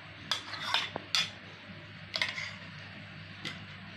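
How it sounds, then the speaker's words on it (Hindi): A spoon clinks and scrapes in a pan as fresh cream is mixed into shahi paneer gravy, giving a few sharp taps and scrapes spread across a quiet moment, with no talking. "एक बार अच्छे से मिक्स करेंगे।"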